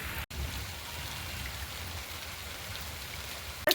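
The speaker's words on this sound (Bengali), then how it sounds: "চাল দিয়ে জল পড়ছে" Rainwater drips steadily off the edge of a thatched roof in a rain-soaked village, a soft continuous patter and trickle close by with no voices.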